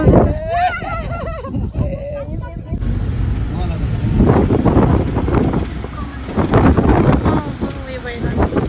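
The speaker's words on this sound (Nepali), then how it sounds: "हावा कस्तो चल्दैछ।" Wind blowing outdoors on a sunny day roars as steady, loud gusty buffeting across the microphone, with people talking over it at the start.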